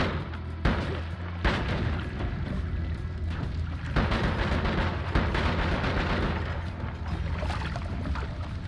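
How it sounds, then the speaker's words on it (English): In the pixel-art game Noita, a thrown mine and other blasts erupt as a dense run of booming explosions with sharp onsets, loud and continuous over about nine seconds, with no voice. "Because it didn't look like that explosion really did much to him."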